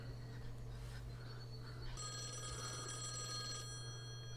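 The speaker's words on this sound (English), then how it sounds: "They're not supposed to get phone calls." An old-style telephone bell rings in the TV show Lost, a bright metallic trill that cuts in over a low electrical hum and room noise, repeating briefly at moderate loudness with no one talking.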